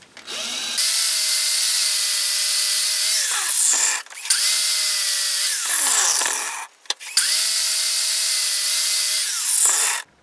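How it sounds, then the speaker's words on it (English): An angle grinder with a wire wheel whirs up in three loud bursts, each holding a steady high whine before spinning down, with brief pauses between. "Wire wheel on an angle grinder."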